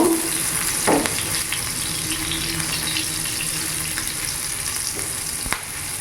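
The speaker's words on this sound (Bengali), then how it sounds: "কিছুক্ষণ নাড়াচাড়া করে একটু ভেজে নেব" Chopped ginger, garlic and chili frying in a pan for chicken pasta, a close and steady loud sizzle with occasional stirring scrapes. No one talks.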